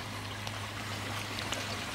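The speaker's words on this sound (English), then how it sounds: "Now the water flows out and down into this tank here as well" Water flows and trickles steadily out of an aquaponics grow bed and down into a tank, a continuous close splashing wash with a faint low hum underneath.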